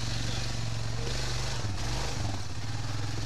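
A 4x4 ATV engine drones steadily on a guided scout tour, a close, constant low rumble with slight dips in pitch, while a voice talks over it.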